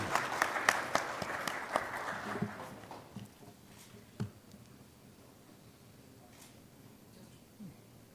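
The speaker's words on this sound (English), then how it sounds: "Can we have a huge round of applause for Mr. David Bologan, please?" Audience at a business conference applauds, a brief burst of clapping that fades within about three seconds into a quiet room with a few scattered knocks and shuffles.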